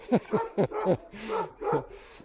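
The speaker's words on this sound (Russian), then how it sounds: "Ух, вон там псина-то гавкает." A dog barks in an old residential district of Yakutsk, with several sharp barks in quick succession followed by longer yelping calls, fairly close and clear with no talking.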